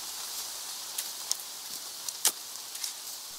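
Steady rain falls in a radio drama night scene where men dig rain-soaked ground, a soft even hiss with a few sharper drips and patters standing out, moderately faint and alone without speech.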